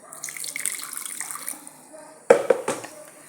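Water splashes briefly as a grinder jar is rinsed while cooking rice and coconut payasam, a short burst of running and sloshing water following a quieter stretch of kitchen background.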